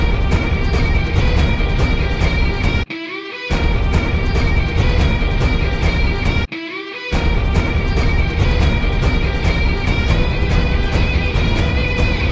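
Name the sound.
Theme music excerpt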